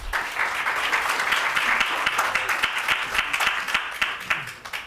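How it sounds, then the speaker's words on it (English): An indoor audience at a talk gives steady, moderately loud applause that keeps up through the whole stretch, welcoming speakers at a conversation event. "Please welcome them both with an applause."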